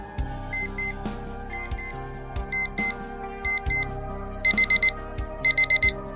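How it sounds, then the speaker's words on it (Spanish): An electronic alarm clock rings in repeated groups of sharp, high beeps that speed up and grow denser toward the end, loud and close over a sustained musical background. "esperar a que sonara el despertador"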